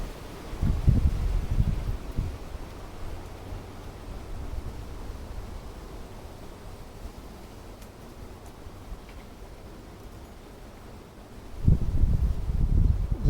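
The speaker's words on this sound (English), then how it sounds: "Ooh, it's windy out here." Wind gusts outdoors during plein air oil painting in Austin, Texas, rumbling in bursts at the start and end with a softer steady rustle between, fairly close on the microphone and without speech.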